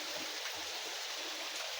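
A small waterfall gives a steady, faint rushing hiss of falling water, continuous and without voices.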